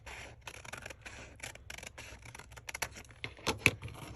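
Scissors snip through paper and napkin material at a crafting table, a run of quiet, irregular close-up cuts and rustles with a few sharper snips near the end; no one speaks.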